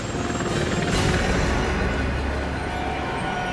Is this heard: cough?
no